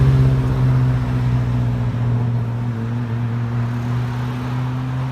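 A Ferrari 599 GTO at a Ferrari anniversary gathering at Windsor Castle, its engine holding a steady, loud idle with a deep, constant drone throughout.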